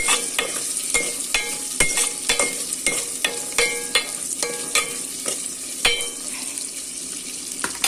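Onions fry in a pan for a curry under a soft continuous sizzle, punctuated by frequent sharp clinks and scrapes of a spoon stirring against the metal in an irregular rhythm, close up and without talk.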